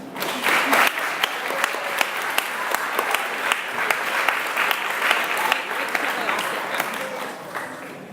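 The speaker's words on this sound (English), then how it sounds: "Let's give them one more round of applause." At a school promotion and award ceremony for kindergarten and early grades, a large audience claps in sustained applause that starts suddenly, holds steady and thins near the end.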